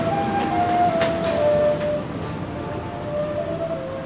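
A Menoreh New Generation economy-class train rumbles steadily, with a thin metallic squeal drifting above the rolling noise and no voices.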